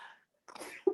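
A single quiet sneeze comes after a brief soft breathy sound, with a short louder burst at the very end.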